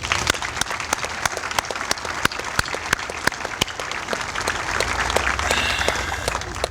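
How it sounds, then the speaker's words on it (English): A crowd at a Fort Bliss garrison change of command ceremony applauds the band and troops on the field, with sustained, moderately loud clapping and a few sharper claps standing out. It builds slightly toward the end. "How about everybody giving them a round of applause?"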